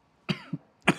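Two or three sharp, close coughs from a person during a technical Q&A session, a pair of bursts followed by another after a short pause, loud against near silence.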